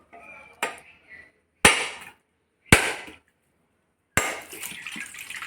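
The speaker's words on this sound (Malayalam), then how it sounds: "നമ്മുടെ നാളികേരം പൊട്ടിച്ച് നോക്കുകയാണ്" Four sharp, separate cracks as a knife strikes a large Malayan dwarf coconut, each followed by a brief rattle and splash of water, close by and without talk.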